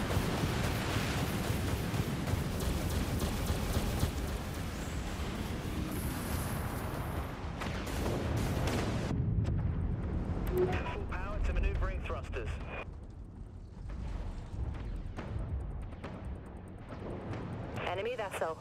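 Heavy missile strikes and explosions batter a spaceship in a video game, a dense, continuous roar of booming impacts with rumbling noise that thins out toward the end, under alarm-like tones.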